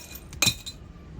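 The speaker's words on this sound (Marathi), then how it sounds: "काचा कशासाठी टाकतात रे याच्यात?" Pieces of glass clink once as they are dropped into a tandoor oven, a single bright, sharp chink with a brief rattle, close and fairly loud over a quiet background.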